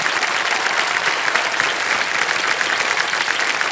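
Studio audience applauding on the Hindi quiz show Kaun Banega Crorepati Season 16, a dense, steady wash of many hands clapping at full volume throughout, with no voices over it.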